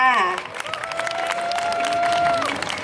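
Audience applause and cheering at a Thai band gig at Siam Square, welcoming a guest bass player; a crowd claps steadily for about three seconds while a sustained tone rings through.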